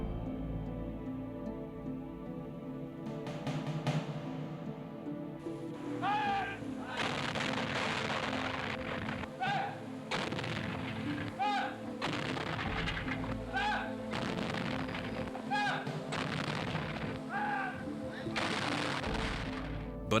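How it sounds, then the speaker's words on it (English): Anti-aircraft guns fire a dense wartime barrage in archival WWII footage, with repeated booms and rapid bursts rolling on throughout, partly under a voice speaking. "only 92 anti-aircraft guns defended the capital"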